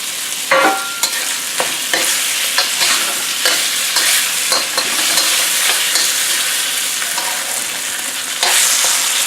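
Beef sears in a hot wok for a beef and Hatch chili stir-fry, giving a dense continuous sizzle broken by frequent sharp scrapes and clicks of stirring.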